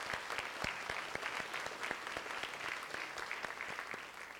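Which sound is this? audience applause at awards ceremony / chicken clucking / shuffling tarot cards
audience applause at awards ceremony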